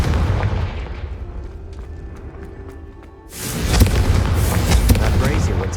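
A Confringo fire-blast spell explodes in the Hogwarts Legacy video game, first a run of sharp cracks over rumbling, then a lull, then a loud sustained roaring burst that fills the last few seconds.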